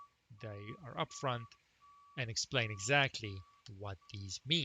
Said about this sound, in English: I apologize if you hear the truck at the background in the background.